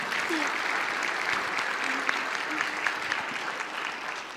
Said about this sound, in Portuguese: Uma salva de palmas para essa atriz.